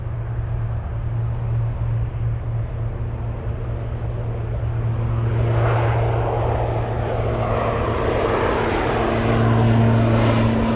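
A large aircraft, a Boeing 747 Dreamlifter, takes off at Anchorage airport, its engines a loud, continuous roar that swells and brightens toward the end, heard at a distance with no talking.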